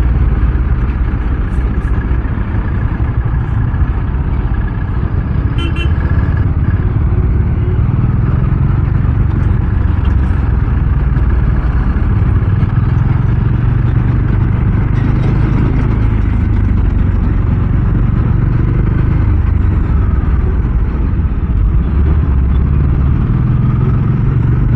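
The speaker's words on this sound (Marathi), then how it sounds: "बेकार ट्रॅफिक आहे यार" A jammed road with idling and creeping engines, heavy low rumble, steady and loud throughout, with faint distant horn-like tones now and then and no talk.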